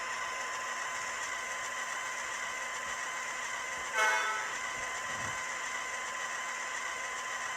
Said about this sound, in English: F24 is single horn blast.